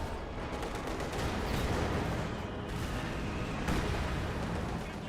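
Continuous battlefield barrage from a Company of Heroes 2 match, with dense artillery fire, rolling gunfire and explosions layered into a steady, loud wall of combat noise lasting throughout.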